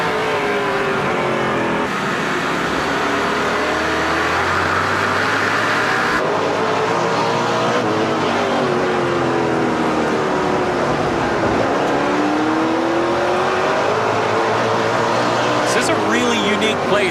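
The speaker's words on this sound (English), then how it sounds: "You can really hear the drivers have to control the throttle as they get on it, get off it" NASCAR Pinty's Series race car engines roar continuously on an oval track, rising and falling as throttles open and close, with cars whining past over a steady loud drone.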